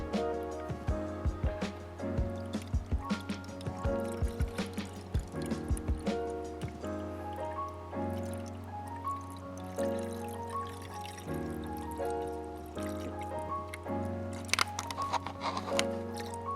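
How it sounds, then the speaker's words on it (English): Coolant glugs and trickles as it is poured into a vehicle, with an uneven run of gurgling bursts and splashes up close, continuing steadily for over fifteen seconds. "We need to add some coolant."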